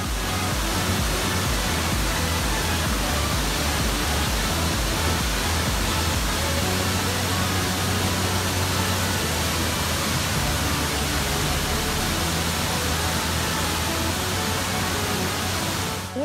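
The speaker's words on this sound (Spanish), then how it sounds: "una cascada muy hermosa" The Cascada El Kilo waterfall in Pastaza, Ecuador roars steadily and loudly, a constant broadband rush of falling water with no pauses and no voices.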